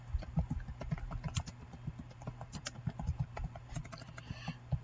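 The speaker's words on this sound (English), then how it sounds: "and then just type." Typing on a computer keyboard while entering a leader note for concrete unit pavers in a drafting program, a quick irregular patter of close, quiet key clicks throughout.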